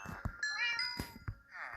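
A cat meows several times in quick succession, high and wavering, close by, with a few soft thumps and rustles around the calls, in a video game.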